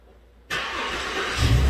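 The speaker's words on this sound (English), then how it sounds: "I'm going to start it up again and see how fast the fuel pressure rises" A 2009 Land Rover LR2 engine cranks briefly and catches, jumping from near quiet to a loud, steady running roar that swells slightly as it settles.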